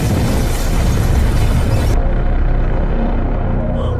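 A bomb explodes in a film scene, a loud sustained low boom and rumble that fills the clip, its upper hiss cutting off halfway while the deep roar continues.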